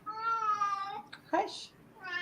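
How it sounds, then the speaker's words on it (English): An indoor house cat meows loudly and close by, two long drawn-out yowls separated by a brief sharp sound, in a quiet room. "Your cat wants to get in the conversation."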